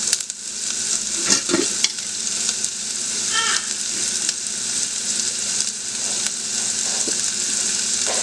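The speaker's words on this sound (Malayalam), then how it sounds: "നല്ലപോലെ വഴറ്റിയെടുക്കാം" Shallots with salt sautéing in a pan for Kerala ulli theeyal, a steady close sizzle with stirring scrapes and a few sharper clinks of the spatula.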